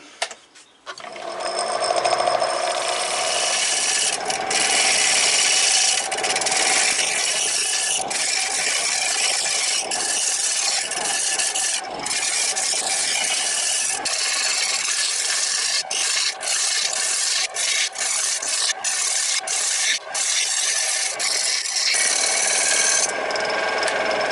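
Wood turned on a lathe for a double-decker serving platter gives a loud, steady scraping and rasping hiss as the carbide tool cuts, running continuously with brief dips and a few clicks.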